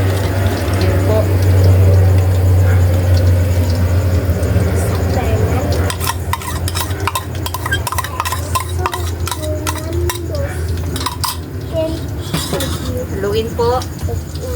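Spoon stirring beaten egg into fish sarciado in a pan, steady scraping and clinking strokes that grow busier partway through, with a low steady hum underneath and talk over it.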